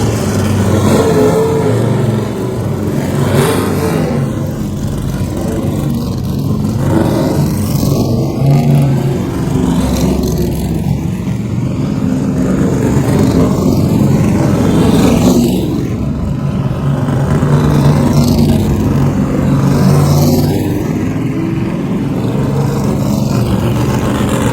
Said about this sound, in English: take a listen to these incredible Trans Am cars as they head out for